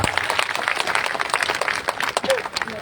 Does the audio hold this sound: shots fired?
no